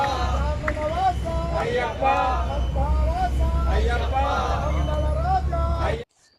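Kerala bus departing Kottayam railway station, engine rumbling low and constant under busy passenger voices and chatter, cutting off abruptly near the end.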